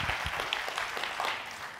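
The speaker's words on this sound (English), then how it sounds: "When someone claps, that means that she agrees with it" A church congregation clapping, a brief burst of dense, close applause that stays fairly even and fades slightly.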